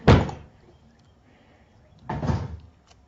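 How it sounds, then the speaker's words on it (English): Rolls of washi tape tumble and clatter out of a craft drawer, a loud burst of knocking at the start and a second clattering rush about two seconds later, with quiet between. "As all of the washi crashes."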